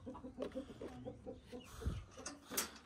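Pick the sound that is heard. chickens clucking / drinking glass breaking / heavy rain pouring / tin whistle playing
chickens clucking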